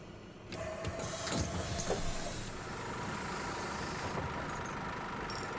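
A bus engine idles and runs in The Bus simulator game on the TXL line, a steady, fairly loud drone that holds without pause and has no voices over it.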